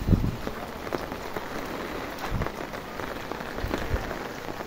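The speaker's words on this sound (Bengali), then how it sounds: "প্রচুর বৃষ্টি আর বৃষ্টি।" Heavy rain pours steadily onto surfaces, a dense constant patter with scattered louder drops and no talking.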